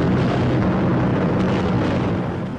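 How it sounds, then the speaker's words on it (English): Bombs bursting in a 1943 Allied bombing raid on workshops and shipyards make a dense, loud, continuous roar of rumbling blasts that fades slightly at the end. "Workshops were hit with 40 tons of bombs."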